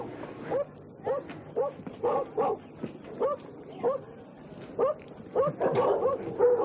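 Vicious street dogs near the Hong Kong border with China bark in short, repeated yelps at moderate distance, about a dozen evenly spaced bursts, with a brief rougher flurry of barking near the end.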